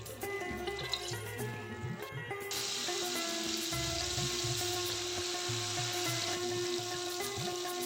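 Mango batter fritters sizzle in hot oil, first a small test drop with softer crackle, then a fuller, steady frying hiss once more batter goes in, continuous and close with faint clinks and background hum.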